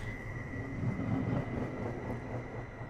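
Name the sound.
Caltrain electric multiple unit train accelerating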